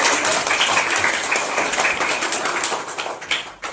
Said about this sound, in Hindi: ताली बजाएंगे सब बच्चे आगे।